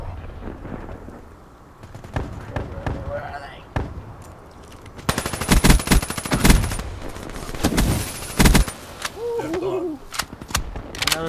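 Rapid bursts from the Weevil rifle in Black Ops 3 crack out in dense, repeated volleys, loud and near, with a player's voice talking between and over the shots.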